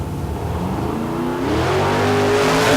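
Drag racing car launching off the line at Calder Park's Friday night drags, its engine roaring loud and close with a rising pitch as it accelerates hard, with no talk over it.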